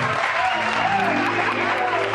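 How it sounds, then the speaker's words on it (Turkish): Audience applause for the musicians at a rock venue, a thick, continuous wash of clapping mixed with sustained tones and crowd noise, loud and steady throughout. "Ve müzisyen arkadaşlarımıza koca bir alkış"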